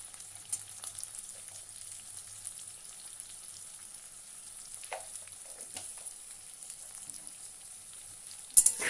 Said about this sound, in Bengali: সব আবারও ভালো করে নেড়ে ছেড়ে ভেজে নিতে হবে।